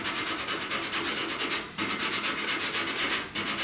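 A car body panel coated in Rage Ultra body filler is sanded by hand with 80 grit sandpaper, a close, steady rasping scrub in rapid back-and-forth strokes with two brief pauses.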